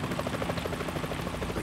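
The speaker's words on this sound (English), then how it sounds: "A chopper." A helicopter in Metal Gear Solid 2, near the Hudson River, gives a loud, close rotor chop: fast, steady rhythmic thumping over a broad engine roar, continuous throughout.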